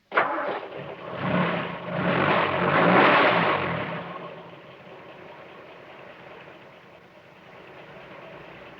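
A toy fire engine from the 1967 Trumpton stop-motion children's series starts up, a rumbling engine swelling over the first four seconds before settling into a steady, quieter idle.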